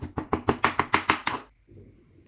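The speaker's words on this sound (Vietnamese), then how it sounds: "Bây giờ băm nhuyễn ra để dành một chút xíu nấu canh bí." A knife chops rhythmically on a cutting board mincing pork for squash soup, about nine sharp, evenly spaced strikes close up, followed by a brief quiet shuffle.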